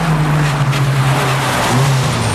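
A rally car at the Donegal International Rally in 1991 races through a stage, its engine droning steadily and loudly with a brief rise in pitch near the end, sounding close and continuous with no talk.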